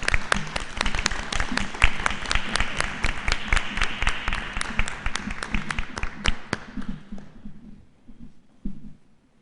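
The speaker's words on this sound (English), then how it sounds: "Let's give these guys a round of applause for their coming up here." Lively applause from a group, dense rapid claps that thin out and fade near the end, with a last few stray claps.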